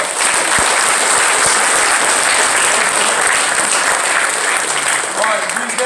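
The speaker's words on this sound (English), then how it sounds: "let's give these young guys a round of applause" An audience at a camp awards ceremony claps for young award winners, a dense, steady round of applause lasting several seconds, close and loud.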